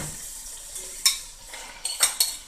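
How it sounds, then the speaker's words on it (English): Meat, kidney and fish fry in a cooking pot, a soft sizzle broken by several sharp metallic scrapes and clinks of a utensil stirring against the pot, close and fairly loud, with no talking. "And I'll allow it to fry a little."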